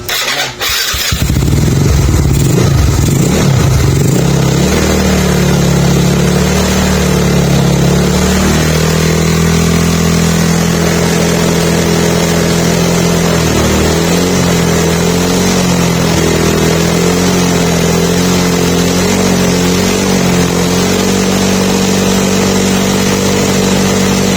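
A Yamaha Mio Sporty scooter engine runs unloaded at high rpm, a loud, steady drone that lasts throughout, rising briefly after a start-up burst and wavering slightly in pitch as the throttle is held.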